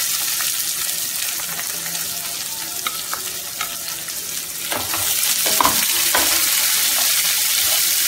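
Onion, ginger and green chili frying in a pan for rava upma, a continuous close sizzle that grows louder partway through, with scattered stirring clinks and no voices.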